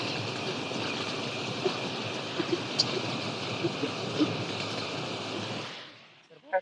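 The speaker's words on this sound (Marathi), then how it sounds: "आवाज भरपूर मोठा यायलाय, पाणी फुले बोरला" Water gushes hard from the first hole just punched into an iron borewell casing in Latur. A loud, steady rushing roar runs unbroken for several seconds, then drops away near the end, leaving a few faint knocks.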